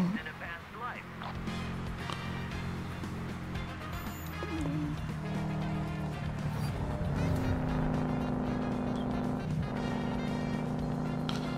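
A car's engine droning and shifting pitch as it drives in the video game Heading Out, steady and moderately loud under game music and someone talking.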